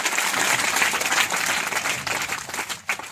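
A church congregation applauding loudly, a dense continuous wash of many hands clapping that eases slightly near the end.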